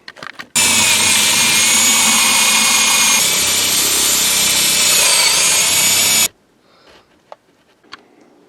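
Power tool cutting a hole in a roof for a Solatube skylight, a loud abrupt whining buzz that starts suddenly, runs steadily for several seconds, then cuts off to quiet with faint clicks.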